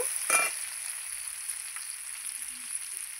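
Potato and onion stir-frying in a pan, a sharp scrape and burst of sizzle at the start settling into a steady, moderate hiss.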